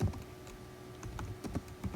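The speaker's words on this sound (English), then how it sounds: "I'm typing with one hand." Keys clack at a keyboard typed with one hand, giving sparse, uneven taps close up over a low steady background hum.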